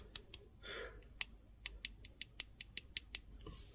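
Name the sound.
tapping on metal part of SH Figuarts figure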